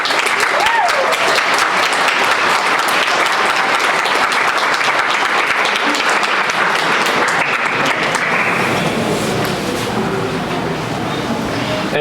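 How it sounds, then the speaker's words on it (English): Loud, sustained audience applause fills a robotics demo night event, dense clapping running steadily throughout and thinning slightly near the end, with faint voices underneath. "Can we get a round of applause?"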